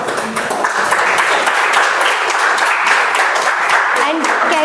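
Audience applause at a meeting, dense steady clapping from a room full of people, loud and continuous throughout, with a voice faintly speaking underneath.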